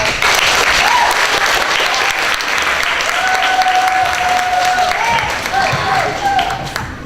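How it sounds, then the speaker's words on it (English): A school community day audience breaks into loud, dense applause that holds steady, with some voices and a brief whistle-like tone under it, tapering slightly at the end. "Let's give a round of applause."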